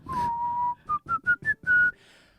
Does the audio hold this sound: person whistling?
yes